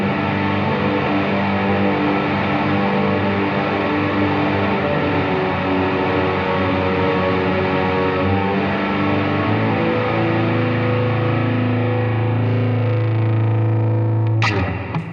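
An electric guitar plays ambient, shoegaze-style chords through a pedal with the reverb fully cranked, a loud wash of sustained, distorted tones swelling steadily and ending in a sharp transient.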